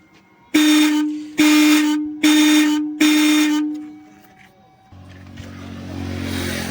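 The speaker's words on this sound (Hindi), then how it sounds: "बजाइए हॉर्न।" A car horn under repair honks four times in short, loud blasts with brief pauses between them, followed by engine rumble and a hiss of noise.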